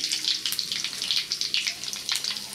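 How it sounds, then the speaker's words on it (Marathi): Cumin and mustard seeds sizzle and crackle in hot oil for a palak khichdi tempering, a steady bright frying hiss with small pops throughout, close and fairly loud with no talking. "तेल तापलं आहे, त्यात मी आता टाकते जिरे, मोहरी,"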